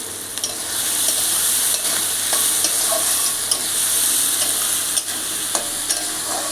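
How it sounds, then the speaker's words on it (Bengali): Sliced onions frying with bay leaves and whole garlic in a pan for mutton curry, a loud steady sizzle with a spoon scraping and stirring in occasional knocks, no talking. "এগুলো দিয়ে আরও একটু নাড়াচাড়া করে আমি দিয়ে দেবো একটু জল।"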